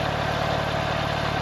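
Porsche 911 Turbo 997 Gen 1.5 coupe with Mezger engine idling, a steady low burbling rumble with a smooth even pulse, close and continuous with no talk.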